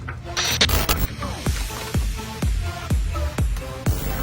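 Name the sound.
wing nut cranked tight by hand on seat bolt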